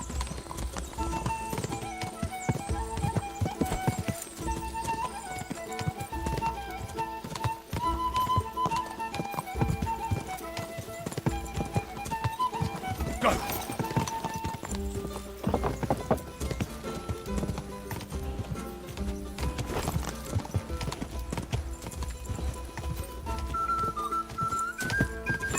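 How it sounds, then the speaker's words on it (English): A fast horse gallops in the video game Kingdom Come Deliverance 2, its rapid, steady hoofbeats running continuously over game music and ambience, with occasional brief snorts. "Yo, that horse is fast"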